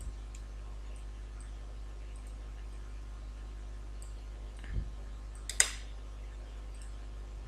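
A computer mouse gives a couple of quiet, sharp clicks over a faint steady hum during flyer design work, with no talking.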